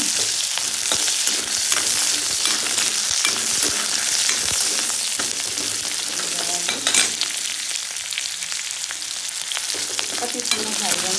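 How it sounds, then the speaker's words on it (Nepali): Onions fry in a pan with a continuous, close sizzle, broken now and then by crackles and soft stirring scrapes, and no talking. "अब यो प्याजलाई पनि फ्राई गर्यो है।"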